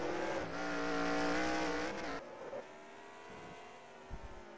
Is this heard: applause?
no